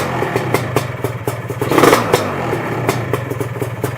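A two-stroke motorcycle engine with a blown seal runs close by at a steady, rattling idle. Its engine note briefly swells midway and then settles back.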